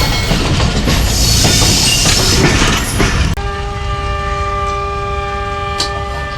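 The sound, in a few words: Jaffar Express train whistle at Dina railway station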